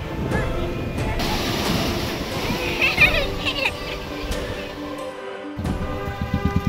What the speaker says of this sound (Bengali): এই সন্ধেবেলা পুরী দীঘার ঘাটে বসে আছি